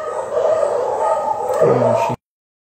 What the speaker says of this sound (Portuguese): vou ter que aumentar o som aqui porque latidos de cães